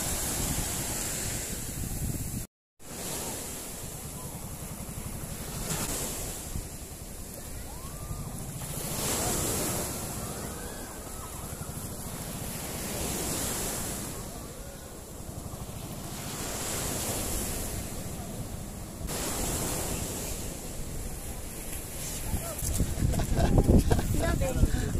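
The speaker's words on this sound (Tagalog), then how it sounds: "Ang taas ng Alon." Ocean surf washes onto an island beach in steady, rolling waves, with wind buffeting the microphone and voices talking faintly over the roar.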